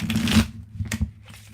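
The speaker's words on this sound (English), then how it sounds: "Somebody asked me one week to just do a video of me shuffling." Tarot cards are shuffled in close, quick riffling bursts, a dense flurry followed by a short pause and two brief further riffles that trail off.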